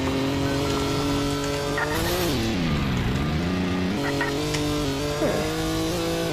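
An ATV in the video game Car Crash Simulator drives with a steady, droning engine whose pitch dips and climbs as it slows and speeds up, with a brief tire squeal near the end.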